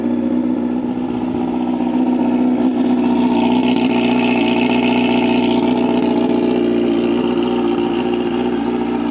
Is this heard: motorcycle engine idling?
yes